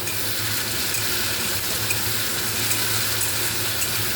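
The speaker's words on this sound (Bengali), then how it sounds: "খুব ভালো মতো এটা ফ্রাই হয়ে গেছে।" Spices for a Bengali fish curry fry in a pan with a steady, loud, even sizzle that continues unbroken throughout, with no talking.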